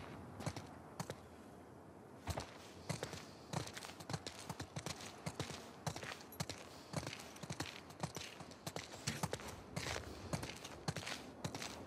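Horse hooves clip-clopping in the video game The Last of Us Part 2, a rhythmic series of sharp, close hoof strikes with faint creaks of tack between steps and no talk.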